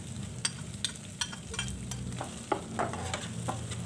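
Anchovies and spices sizzle in a wok while a spatula scrapes and taps in an irregular rhythm, a steady close frying hiss running underneath, with nobody talking.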